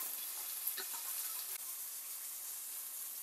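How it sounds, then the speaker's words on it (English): Steak sears in a cast iron pan with a steady, faint high-pitched hiss and sizzle, constant throughout with a few soft pops and no voices. "We're using a cast iron, so that's the reason why I have to keep on flip it like this to get the color I'm looking for"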